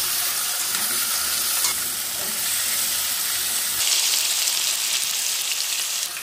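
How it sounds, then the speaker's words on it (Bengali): Cut white potatoes frying in hot oil in a home kitchen pan, a loud, steady sizzle and crackle that runs throughout with occasional stirring, close up and without talk. "আলুগুলো দিয়ে ভেজে নেব।"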